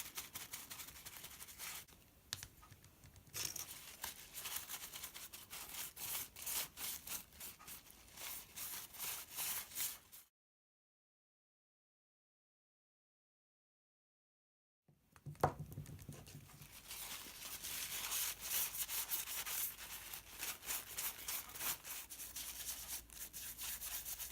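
A brush dabs watercolor paint onto a handmade puppet to build texture, giving a close, dry rubbing and patting scratch in steady bursts, broken by a silent pause midway before the dabbing resumes.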